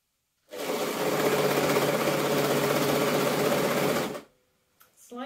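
Sewing machine stitching a dragon cosplay wing made of stretch fabric with no wadding, running in one steady, loud, continuous burst for about four seconds before stopping abruptly, with a brief voice just after.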